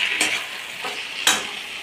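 Cashew paste stirred into cooking spices in a pan for a papaya curry, a steady sizzle with two brief scraping stirs, close and moderately loud.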